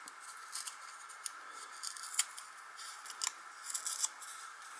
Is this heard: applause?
no